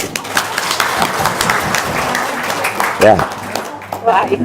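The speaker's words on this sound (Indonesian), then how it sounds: "Oke, tepuk tangan dong." Scattered audience clapping rises at a gathering led by a Pak Haji, moderately loud and uneven, mixed with people talking and a brief sliding vocal sound near the end.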